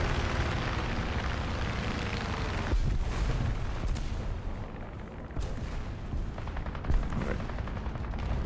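Tank cannon fire in War Thunder: a few heavy, booming shots at irregular intervals over a constant roar of engine and battlefield rumble.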